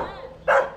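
A big dog gives a single short bark, loud and close, after a moment of quieter background sound.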